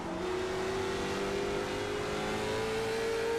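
A race car engine in iRacing at Martinsville drones steadily and close, its pitch creeping upward as it holds a constant, buzzy roar with no pauses.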